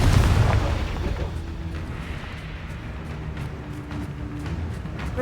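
A Confringo explosion spell in Hogwarts Legacy lands with a loud deep boom at the start, then a rumbling tail fading into a low hum of game ambience.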